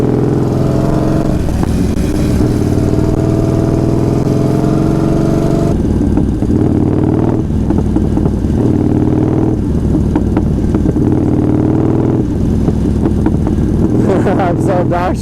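A heavy motorcycle engine runs loud and close in a garage setting, holding a steady, throaty drone with rougher surges partway through, and it continues without pause.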